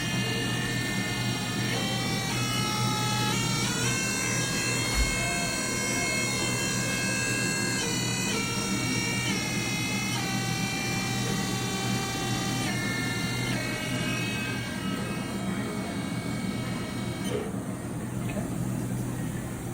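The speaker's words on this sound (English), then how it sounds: "Got the spindle running right now." A 2005 Haas VF-2 Super Speed CNC vertical machining center runs its spindle with a steady, loud, high whine that steps up and down in pitch several times over a constant machine hum.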